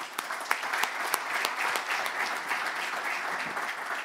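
An audience at a business forum applauds to welcome a speaker, a full, continuous wash of clapping with a few sharper claps standing out near the start.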